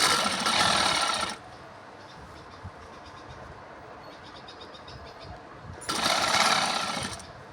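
A sewing machine stitches a t-shirt neckline in two short, fast bursts of rapid whirring with a quiet pause between them.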